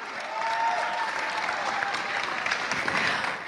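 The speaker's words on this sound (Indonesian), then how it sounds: "saya pingin kita tepuk tangan dulu untuk semua yang hadir di sini" A crowd of young attendees at a political gathering applauds, dense and sustained clapping that stays loud and even throughout, with no speech over it.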